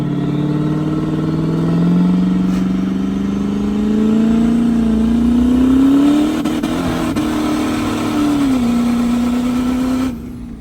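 A 1000hp LBZ diesel engine revs steadily at half throttle, its loud, sustained drone climbing slowly in pitch and then settling, with no voices.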